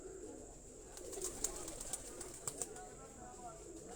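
Faint, soft cooing from a loft of migratory pigeon breeds in Sialkot, low and murmuring beneath a hushed background with a few light clicks and flutters scattered through it.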